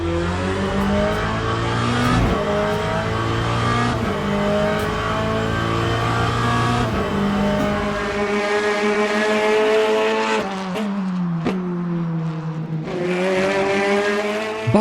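GT3 race car in the sim racing game Le Mans Ultimate, its engine loud and continuous as it revs up through the gears with sharp upshifts, then falls and climbs again under braking and acceleration, no talk.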